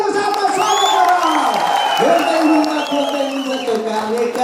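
A live comedy show audience in Nepal cheers and whoops. Scattered clapping runs under the excited crowd voices for several seconds.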